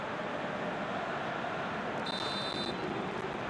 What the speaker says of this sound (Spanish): Aquí está el pitido final.